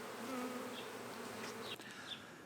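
A honeybee swarm at a backyard hive buzzing as a close, dense drone, with individual bees whining past the ear.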